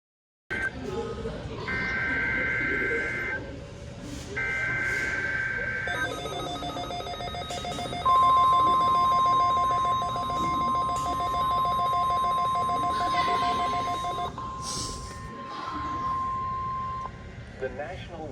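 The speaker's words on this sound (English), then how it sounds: "has just activated the warning alarm on 13 NOAA weather radio stations across central and southern Minnesota and west central Wisconsin" NOAA weather radio warning alarm from an EAS weekly test broadcast: a long, steady, piercing alarm tone holds for several seconds amid other electronic beeps and tones, with a broadcast voice speaking around it.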